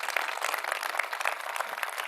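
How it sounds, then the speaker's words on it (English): Audience applause at a staged reading of the play Philoctetes, a steady dense wash of clapping that holds evenly for about two seconds with no voices over it. "please, let's offer Art Wilson a round of applause"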